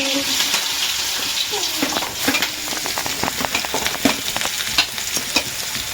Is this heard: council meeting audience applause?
no